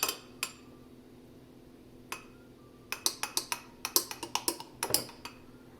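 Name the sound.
mixing a drink with a spoon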